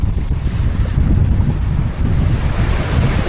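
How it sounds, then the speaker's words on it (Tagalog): Strong northeast monsoon wind (amihan) roars at sea, gusting steadily into the microphone over surging waves and surf, loud and continuous with no voices. "Napakalakas na naman ang amihan po mga bay"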